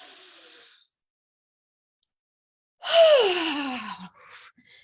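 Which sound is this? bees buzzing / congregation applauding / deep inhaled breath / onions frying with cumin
deep inhaled breath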